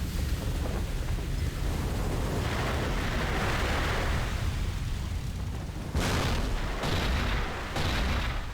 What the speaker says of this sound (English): Sounded like gunfire.